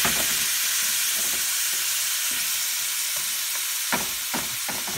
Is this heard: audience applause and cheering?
no